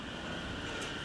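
Aonami Line electric train departing a station, a steady broadband rumble and whir heard up close for about a second, with no talk.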